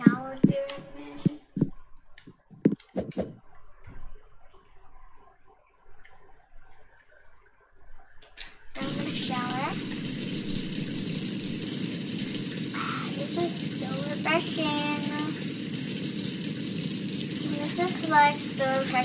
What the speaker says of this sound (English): I need a shower because I know I just showered here a minute.